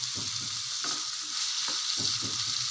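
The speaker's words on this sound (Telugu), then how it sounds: "ఒకసారి బాగా కలిపేసుకోవాలి" Poori curry fries and sizzles in a pan while a spoon stirs it in quick repeated scrapes, a steady hiss running under the close, rhythmic strokes, with no voices.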